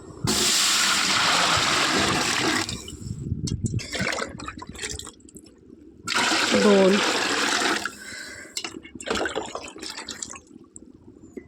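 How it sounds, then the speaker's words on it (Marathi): Water poured from a pot into a cooking vessel while rice-flour papad dough is prepared, coming as two loud, near splashing bursts separated by a quieter stretch in which someone speaks. "त्याच पातेल्याने तीन पातेले पाणी टाकू"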